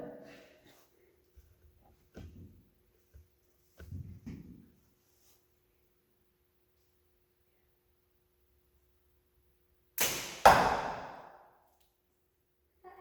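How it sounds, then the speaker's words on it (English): An arrow shot in archery strikes the target with one sharp, loud impact that quickly decays, following a long quiet stretch with faint murmurs and rustles. "I have no idea where that arrow hit."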